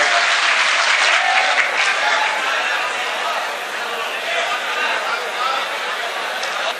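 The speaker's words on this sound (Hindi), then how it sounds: "जोरदार तालियों से इस्तकबाल करना।" Sustained applause from a large mushaira audience at a mela in Khatauli, welcoming a poet to the stage; dense, steady clapping with crowd noise, loud and close, fading slightly toward the end.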